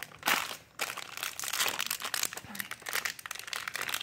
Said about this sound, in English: First, I'm going to be opening this blind bag.